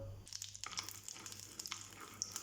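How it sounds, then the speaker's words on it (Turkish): Butter melting in a frying pan gives a faint, soft sizzle with small crackles and pops, steady under quiet kitchen room tone. "bir yemek kaşığı tereyağını tavama alıp eritiyorum"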